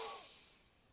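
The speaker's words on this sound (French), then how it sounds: "Une courte et vigoureuse inspi." A single short, forceful breath during a Kapalabhati yoga breathing exercise. The soft airy rush is close to the microphone, starts strong and fades quickly.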